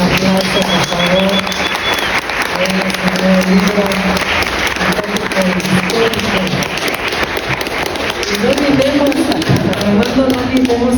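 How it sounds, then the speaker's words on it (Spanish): A crowd at a book presentation gives sustained, loud applause, a dense crackle of many hands clapping for about eleven seconds, with murmured voices mixed underneath. "Vamos a darle un aplauso, por favor."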